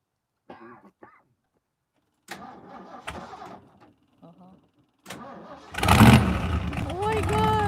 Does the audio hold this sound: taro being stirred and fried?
no